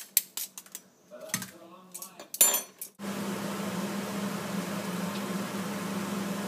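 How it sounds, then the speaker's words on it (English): Crispy battered food fried in a pan gives a steady, dense crackling sizzle after a few seconds of clattering kitchen sounds and brief talk, holding at an even level to the end. "Can you hear that? How crispy and crunchy that is?"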